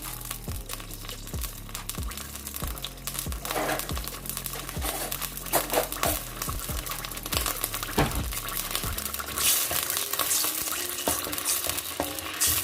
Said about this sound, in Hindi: इनको हम अच्छे से मिक्स करेंगे। इसको तकरीबन हम 2 से 3 मिनट तक अच्छे से भूनेंगे।